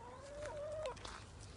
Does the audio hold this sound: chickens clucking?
yes